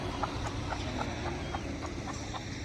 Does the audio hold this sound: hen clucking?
yes